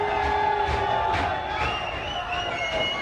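Wrestling crowd at a UPW independent show roaring and cheering steadily, a dense, sustained wash of shouts and whoops from a packed audience, with excited commentary voices mixed in.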